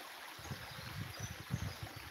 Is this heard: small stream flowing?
yes